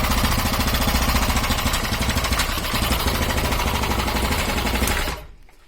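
A Briggs & Stratton 500 series lawn mower engine fitted to a Veterok 8 boat motor runs with a loud, rapid, rattling putter, then cuts out abruptly near the end.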